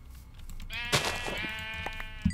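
One sheep in the Minecraft video game bleats in a single wavering, nasal call heard up close, with a couple of faint thumps around it.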